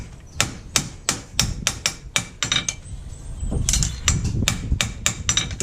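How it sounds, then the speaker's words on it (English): Rapid hammer blows ring out on a hot, cherry-red horseshoe at an anvil during horse shoeing, a run of sharp metallic strikes in quick rhythm with a brief pause, then another burst of close, loud blows. "just keeps the hammer moving between blows, so you're not stopping, starting"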